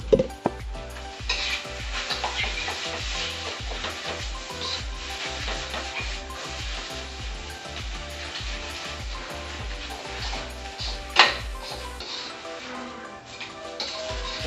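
Nasi goreng stir-fried in a pan over a high flame, a constant sizzle with regular rhythmic scraping and tossing of the spatula against the pan, close and steady, plus one sharper clank and no talk.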